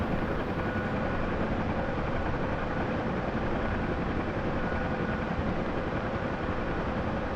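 A UH-1H Huey helicopter in a flight simulator cruises along with a steady, dense rotor and turbine roar that holds constant and loud throughout, with no talk over it.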